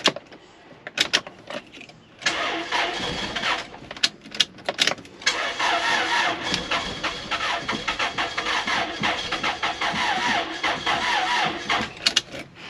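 A Toyota Celica engine cranks repeatedly without catching, with a rhythmic, labored starter churn and a few short bursts before a long continuous crank, loud and close.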